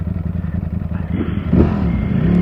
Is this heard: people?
no